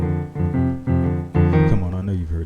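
Piano playing a short, bright chordal phrase imitating the Mister Rogers' Neighborhood trolley, a few gospel-style chord hits in quick succession, clear and close.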